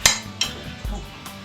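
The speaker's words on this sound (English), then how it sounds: "There's that clank again. Did you hear that? Oh, that's the good cutlery that we have." Good table cutlery clanks against dishes in a few sharp metallic clinks, close by, with short pauses between them.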